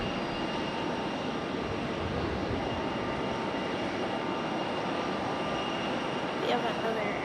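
An Air Canada airliner at Raleigh-Durham International Airport produces a broad, steady engine roar that stays even throughout, with people chatting quietly underneath.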